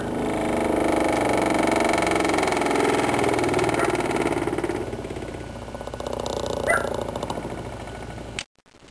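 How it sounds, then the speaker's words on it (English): A Century electric motor runs steadily with a mid-pitched hum, then switches off and slows, its tone fading over several seconds before an abrupt cutoff near the end; a dog barks faintly in the background. "when I shut this motor off, you'll see them pop back together again when the motor slows down"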